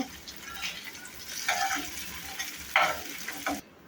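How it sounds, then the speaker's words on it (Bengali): Oil sizzles and crackles steadily as paneer fries in a pan, with a few louder bursts of spattering, no voices. "পনিরটা আমরা ভাজতে দিয়ে দিলাম"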